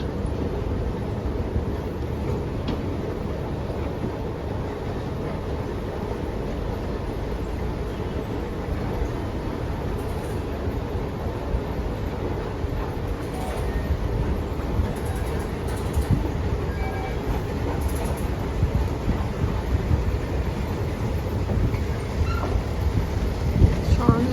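A steady, loud rumble of a metro train at a platform in Istanbul, continuous rolling noise with faint voices and hiss in the background.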